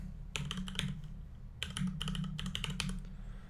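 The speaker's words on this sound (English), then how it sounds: "And then we can put in a password." A password is typed on a computer keyboard in two quick bursts of close keystrokes with a short pause between them, no talking.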